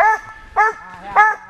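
An eight- or nine-month-old hunting dog puppy gives three sharp, high yipping barks in an even rhythm while working a wild boar trail, close and clear against a quiet background.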